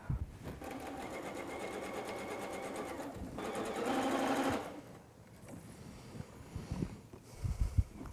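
Sewing machine running steadily as it stitches a new section onto the bottom of a quilted wall hanging, a continuous buzzing drone that swells briefly before stopping, followed by soft handling noises.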